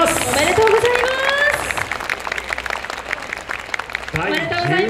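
Applause at an award ceremony for a festival team, with crowd clapping and cheering that swells mid-clip while an announcer's amplified voice speaks over it at the start and end.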